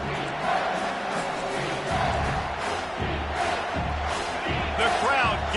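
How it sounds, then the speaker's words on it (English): A football stadium crowd roars for the defense during a red-zone stop, a sustained loud wall of cheering and shouting with rhythmic surges, heard from within the stands as a broadcast commentator talks over it. "The crowd getting behind this defense as they try to get a stop in the red zone"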